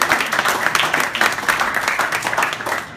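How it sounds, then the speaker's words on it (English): Audience clapping fills a post-fight boxing press conference: dense, continuous applause from a crowd, loud and close for a few seconds with no break. "applause to Leo, el famoso Terremoto Santa Cruz."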